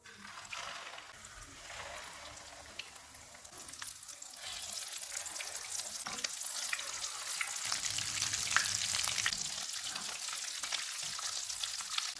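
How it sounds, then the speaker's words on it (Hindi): Egg-dipped chicken chana kababs frying in hot oil over a medium-low flame, a quiet, crackling sizzle that gradually swells and stays steady, with small pops and clicks scattered through it. "इनको अंडे में डिप करेंगे और फ्राई कर लेंगे"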